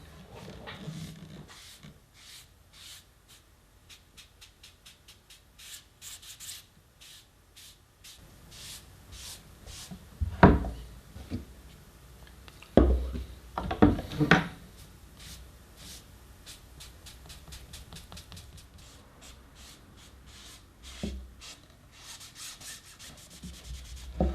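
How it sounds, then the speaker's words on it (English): A clean rag rubs stain across a wooden bass guitar neck in quick repeated strokes, soft and close, with a few louder knocks and handling bumps partway through. "gave it a good rub with a clean rag just to even out the colour"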